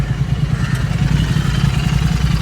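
Royal Enfield GT 650 motorcycle engine running steadily close by, a loud, even low throbbing with mechanical clatter and no voices.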